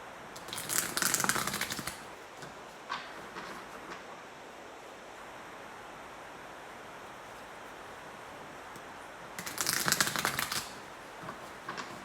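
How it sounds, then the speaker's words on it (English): Two bursts of tarot cards being riffled and shuffled, one at the start and one near the end, with quiet soft handling in between. "I'm going to shuffle the cards."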